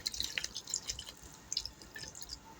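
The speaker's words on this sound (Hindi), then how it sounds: "तो अब हम इसमें 1 गिलास पानी का डालेंगे" Water from a glass being poured into a raw mango sharbat mix, heard as a quick run of close, bright drips and trickles splashing into the liquid.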